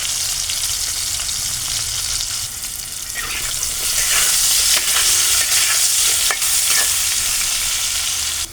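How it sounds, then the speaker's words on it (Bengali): Potatoes fry in mustard oil with turmeric and salt for a prawn curry, giving a steady bright sizzle. From about three seconds in, it grows louder, with sharp scraping stirs and clatters from the pan. "সর্ষের তেল দিয়ে আলু দিয়ে দিয়েছি, একটু হলুদ আর নুন দিয়ে ভেজে নেব।"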